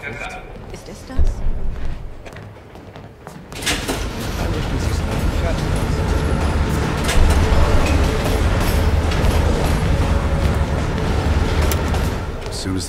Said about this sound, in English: As soon as the train slows down,